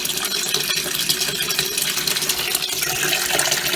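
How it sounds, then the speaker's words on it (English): Water splashes and churns steadily inside a Kenmore laundry center washer during its rinse cycle, a continuous close wash of sloshing with occasional small knocks. "That means we're in the rinse cycle."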